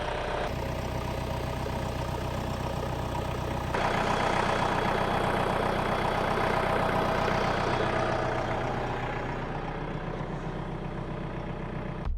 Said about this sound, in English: the 754 is warming up with our Ironcraft snowblower on the back